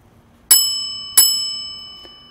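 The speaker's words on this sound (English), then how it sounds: "hit that notification bell" Notification bell sound effect rings twice with bright, metallic dings about half a second apart, each tone ringing out and slowly decaying, followed by a faint third tap.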